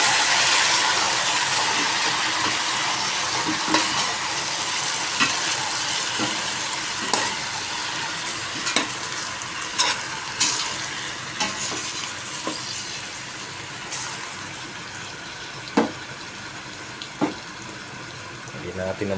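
Squid frying and stirred in a pan for squid adobo with green bell pepper, a steady close sizzle with repeated scraping taps of a spatula, a voice speaking over it at times.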